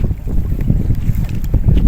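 Steady wind gusts at a seaside fishing spot on Al Reem Island, Abu Dhabi, strong enough to lift a floating squid lure, buffeting the microphone with a continuous low rumble throughout.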